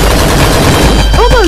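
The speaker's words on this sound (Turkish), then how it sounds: "Dedemin beylik tabancası." Gunfire in a chaotic online shooter match, loud dense bursts of shots packed close together with other players' voices shouting over them, the shots repeating rapidly rather than landing as single spaced pistol cracks.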